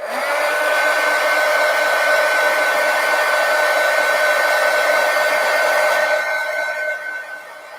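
A hair dryer blows steadily over a freshly painted gouache botanical artwork, a loud, continuous whir with a strong mid-pitched motor tone, holding even for about six seconds before easing off and softening as it is switched down at the end.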